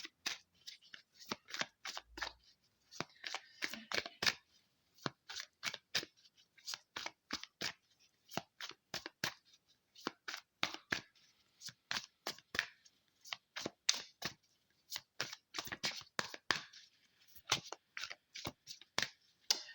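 Tarot cards being drawn and handled: a long run of quiet, crisp slaps, slides and riffles in irregular bursts, close to the listener, with no talk over them.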